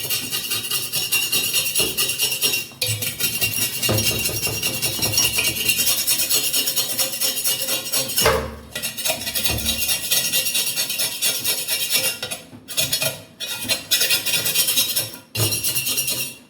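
A dirty tawa griddle, reheated, is scrubbed clean by hand, giving steady close rasping and rubbing strokes that continue with brief pauses throughout, with no voices.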